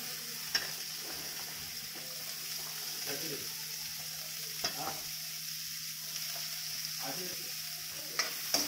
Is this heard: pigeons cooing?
no